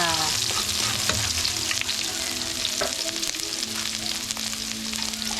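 Onion frying in a pan with spices for chicken kabsa, a loud, steady close sizzle with stirring scrapes throughout and no talk.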